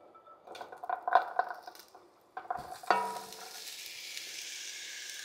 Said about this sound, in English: Our pan is heated. Now we're going to add our mirepoix.